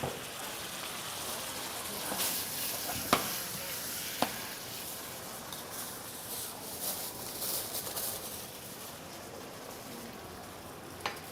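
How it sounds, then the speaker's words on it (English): Pasta boiling in a covered pot of salted water gives a steady, close bubbling hiss with scattered sharper pops and crackles, continuous across the clip with no voices. "Yeah, the pasta is boiling."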